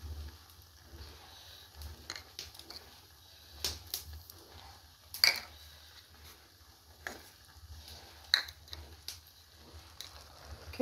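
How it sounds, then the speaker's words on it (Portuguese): Vegetable pie batter of cabbage, carrot and cream stirred in a bowl, giving scattered soft scraping and tapping strokes with a few sharper clicks over a low steady hum. "Coloquei aqui, vou mexer bem."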